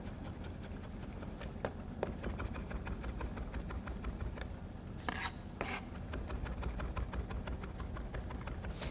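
A knife chopping fresh oregano on a cutting board in a kitchen, a quick steady run of faint, sharp taps with a few louder knocks over a low background hum.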